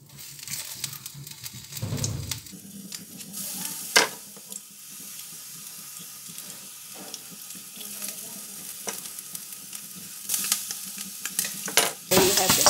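Garlic, lemongrass and tofu fry in oil with a steady crackling sizzle, broken by intermittent stirring scrapes and a few louder clanks, swelling toward the end.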